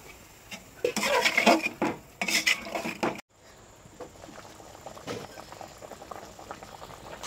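Fish curry bubbles vigorously in a pot, a loud, close gurgling boil that drops to a quieter, steady simmer partway through.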